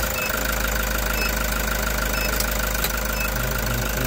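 A car engine with a turbo timer keeps idling after the key is turned off, a continuous low rumbling hum with a faint mechanical clatter and no voices.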